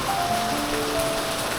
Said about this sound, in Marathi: म्हणजे पाऊस खूपच जास्त आहे गावी